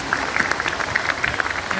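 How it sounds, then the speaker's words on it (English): Moderate applause from an audience at a public art dedication in Western New York honoring a large cast bronze sculpture, a scattered, crackling patter of many hands clapping, fairly soft and steady. "Let's have a round of applause"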